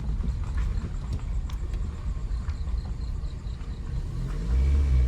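A car idles and rumbles nearby while a learner driver works the clutch and tries to shift into first gear. A low, uneven engine drone runs under scattered clunks, and the engine swells in a brief rev near the end.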